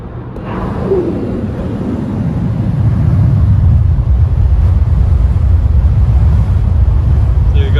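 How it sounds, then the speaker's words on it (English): Wind rushes through the open moonroof of a Toyota RAV4 cruising at about 61, a steady broadband roar that builds over the first few seconds, then holds loud and constant with no talking. "I'm gonna open the moonroof and we can compare the wind noise"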